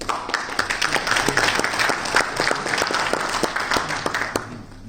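A seminar audience at a network marketing presentation claps together, with sharp, closely packed hand claps that hold steady and then taper off slightly toward the end.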